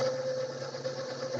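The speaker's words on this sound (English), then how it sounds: "we're going to turn the mixer on" An electric stand mixer runs steadily while mixing yeast bread dough, giving a continuous motor whine with a constant tone and no talking.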